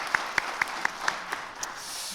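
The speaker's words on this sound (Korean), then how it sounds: "재정부 관련해서 우리 격려 박수 하겠습니다" Applause from a church congregation at a Sunday afternoon worship service: a short burst of claps, with a few sharp distinct strikes at first that quickly blend into a softer wash of clapping before it fades.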